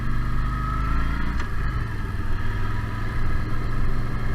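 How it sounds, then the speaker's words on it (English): A Yamaha Stryker motorcycle engine drones steadily and loudly while riding, with a brief change in pitch partway through as the rider shifts gears. "The shifting on the bike is really smooth, even though it makes a clunky noise."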